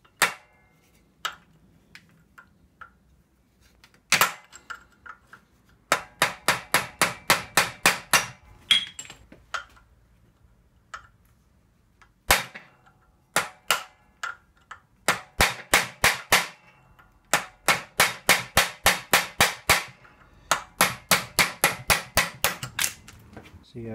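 Hammer striking a drift punch to knock a seized pin out of a hedge-find chopper, in rapid rhythmic runs of sharp metallic blows broken by pauses and a few single strikes, close and loud.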